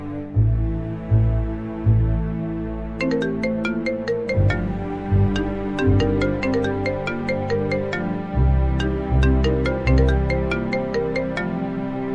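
A melodic phone ringtone plays, chiming tones repeating over a steady rhythmic tune, loud and close, with no voices.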